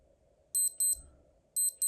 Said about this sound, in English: that's how the alarm sounds